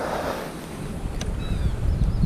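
Wind gusting along a narrow path lined with pine trees high in the Indian Himalayas, heard as steady low rumbling buffeting on the microphone that swells toward the end, with a faint whistling tone partway through.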